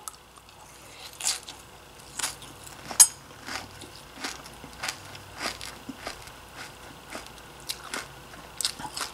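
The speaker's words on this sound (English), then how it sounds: "Wow, that sure is crunchy." An older woman bites and chews crunchy Frosted Flakes cereal with marshmallows, close, irregular crisp crunches spaced about half a second to a second apart, with no talking.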